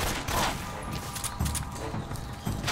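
Gunfire in the Metal Gear Solid 3: Snake Eater boss fight against The Fear in a forest, with a few sharp shots spaced over a busy game soundscape.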